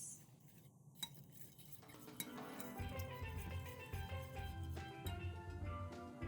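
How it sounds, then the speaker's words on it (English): A spoon stirs a tofu marinade of cinnamon, cloves, avocado oil and maple syrup in a bowl, making soft repeated scraping and clinking sounds that grow busier after a few quiet taps, close and without talk. "we'll give it a mix"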